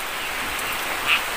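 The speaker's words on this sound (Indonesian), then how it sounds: "Ini hujannya juga mulai deras teman-teman ya" Heavy rain pours down outside a hut in a steady, broadband hiss that barely changes, with one brief brighter patter of drops near the end and no voices.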